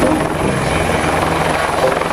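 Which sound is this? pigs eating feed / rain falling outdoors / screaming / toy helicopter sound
toy helicopter sound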